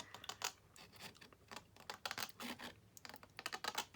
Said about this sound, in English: you want to cut to the edge of that crease.